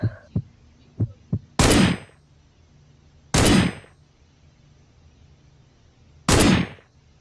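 Three loud, sharp shots ring out from an M24 sniper rifle, spaced a couple of seconds apart, each with a brief fading tail, preceded by a few lighter clicks of handling.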